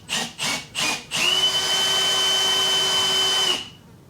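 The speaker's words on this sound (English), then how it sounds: "Okay, I'll give this thing a drill." A drill bores into a stainless steel RC helicopter rotor head part: three short trigger bursts, then a sustained, loud, steady whine for a couple of seconds before it winds down.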